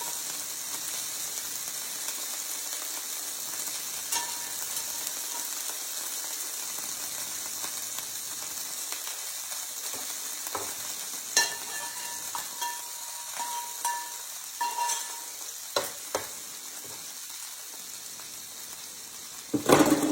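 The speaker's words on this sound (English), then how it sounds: "I'm going to place our mushrooms and our onions on top of our cheese and let them melt in with the cheese" Mushrooms and onions sit on melting cheese atop a burger patty on a hot cooking surface, giving a steady, moderate sizzle that runs throughout. Occasional light clicks of a spatula break in, and nobody speaks.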